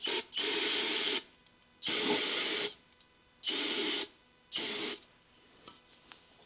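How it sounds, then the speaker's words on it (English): Non-chlorinated brake cleaner is sprayed on parts of a vintage Craftsman planer in four sharp, loud hissing bursts, each about a second long, separated by brief quiet gaps. "A little bit of brake cleaner, non-chlorinated."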